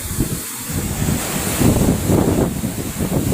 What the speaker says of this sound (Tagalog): Ayan o grabe talaga yung alon mga koys